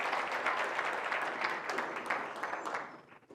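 A church congregation claps together during a Quadrangular worship service: steady, dense applause for about three seconds, close and full, thinning slightly at the end.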